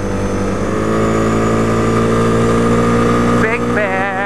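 A 1997 Yamaha Big Bear ATV engine runs close and loud at a steady drone, then revs up and down near the end with a wavering pitch.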